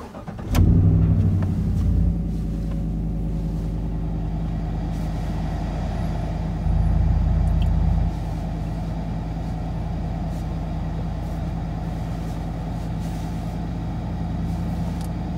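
A 2015 Chevrolet Silverado V8 with a Magnaflow exhaust dumping behind the rear axle catches on a cold start, a sharp crank and loud flare followed by a steady deep idle that swells briefly midway, close by and unaccompanied.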